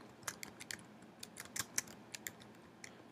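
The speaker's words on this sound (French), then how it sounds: "je tape l'astérisque, ensuite je tape le deuxième nom" Keys clatter on a computer keyboard in quick irregular bursts of light taps, close and fairly quiet, with no voices over them.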